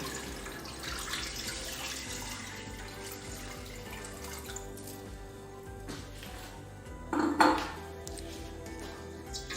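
Water pours into a cooking pot holding heated oil on a stove, a soft steady rushing stream ending in a brief louder splash and clink of the pot.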